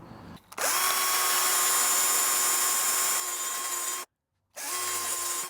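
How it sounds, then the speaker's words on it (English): A power-driven wire brush scrubs a golf club head, a loud steady whirring grind that runs continuously for several seconds, stops briefly, then resumes close up with no talking. "And then I've got this wire brush."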